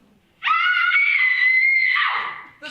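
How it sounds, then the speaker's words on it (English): A woman lets out one long, loud, high-pitched scream lasting about a second and a half that tails off at the end, performed on stage in a theater production of Clue. "The screams are coming from the middle of the"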